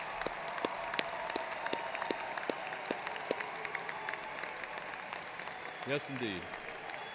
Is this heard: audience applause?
yes